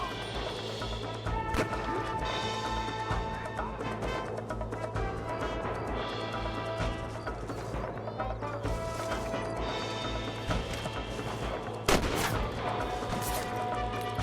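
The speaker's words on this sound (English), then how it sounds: "Good shooting, boy." Scattered gunshots in a Red Dead Redemption shootout, sharp single cracks, one especially loud near the end, over a constant bed of game music and ambient noise, with occasional voices.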